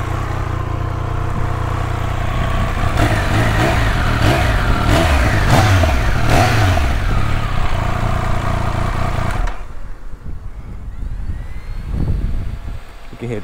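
A 2023 Triumph Speed Triple 1200 RS engine idles with a steady, throaty exhaust tone, running loud and close for several seconds before the sound drops away abruptly.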